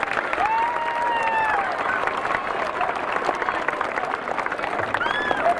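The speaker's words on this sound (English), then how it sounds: "applause for the B Naturals, please" Applause from an audience at an outdoor Memorial Day service, steady clapping that fills the whole stretch at moderate loudness, with a few scattered whistle-like tones rising over it.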